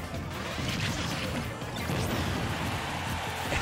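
A forward smash attack in a Super Smash Bros doubles match lands with a loud crashing thwack amid a dense wash of game effects and crowd noise, sustained and close throughout.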